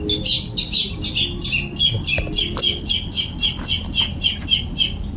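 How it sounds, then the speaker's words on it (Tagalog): A video game bird repeats a rapid series of high, squeaky chirps in a steady rhythm, loud and close, with a low hum beneath, in a horror game. "Baka ibon na naman yan ni Isul"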